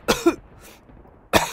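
Two sharp, dry coughs, one right after the other, then a short pause before another cough.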